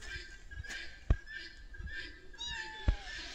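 A house cat gives a couple of short meows indoors amid scattered knocks and rustling, fairly close and moderately loud, with no talk over it.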